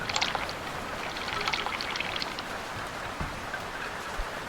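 Water is poured and sloshed from a bucket while bailing out a sailboat in the Sailwind sailing game, a steady close splashing stream with small bright spatters, no talking.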